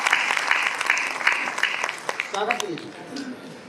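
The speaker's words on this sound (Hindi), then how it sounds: "एक बार पूरा सदन मुझे तालियां बजाकर आदेशित कर दिए" Audience at an all-India Hindi poetry gathering applauds a poet with dense, sustained clapping that fades out after a few seconds as a voice begins speaking.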